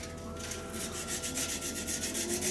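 Steady rhythmic rubbing of abrasive paper across a clear blue and gold epoxy resin shaving brush blank, repeated back-and-forth strokes at close range, working through the grits with no voices.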